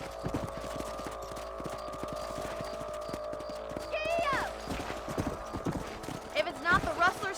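Horse hooves clip-clop in a steady galloping rhythm in the video game Red Dead Redemption, with a humming background score and a brief whinny partway through, while a voice speaks over it.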